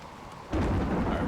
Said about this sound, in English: at least it's raining while we're getting lightning strikes over here